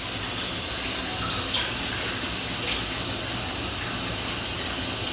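Water bleeding off from a well pump on a high-flow yard water system, a steady close hissing rush of flowing water that runs unbroken throughout.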